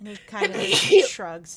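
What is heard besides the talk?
sneeze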